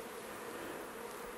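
Honey bees from a hive left alone for twenty years give off a steady, dense buzzing hum that holds level throughout, close by and with no voices.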